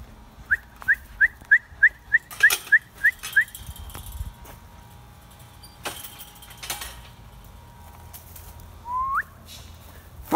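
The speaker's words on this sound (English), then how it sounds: "Farm dog!" A farm dog lets out a few scattered barks in a quiet outdoor yard, preceded by a quick run of high, evenly spaced chirping whistles and followed by a short rising whistle.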